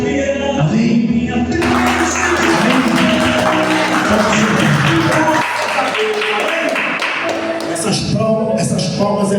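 A church congregation at a Sunday service applauds in a steady, dense patter of hand claps with thumps, blended with loud music and voices throughout.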